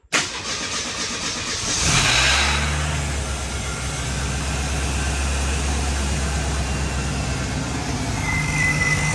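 A Ford Fairmont engine with Sniper 1bbl throttle-body fuel injection and a mechanical fuel pump cranks over and catches, then settles into a steady, loud, low idle rumble that runs unbroken to the end.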